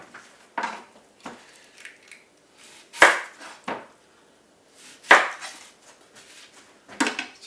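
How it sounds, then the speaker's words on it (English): A knife chopping an onion on a board, with irregular close taps and a few sharper louder cuts spaced apart, alone without talk. "Now I'm just going to cut up an onion."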